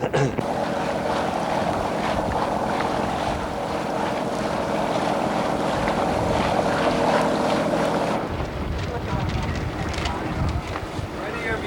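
Sailboat under way to the start of a race: steady wind buffeting the microphone, water rushing past the hull and a low continuous rumble, loud and close, easing near the end.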